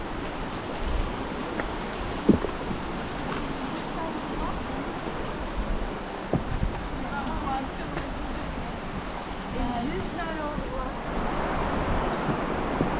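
A waterfall pours into the Bras de la Plaine river on Réunion, a constant broad rush of water mixed with wind buffeting on the microphone, with a voice talking over it.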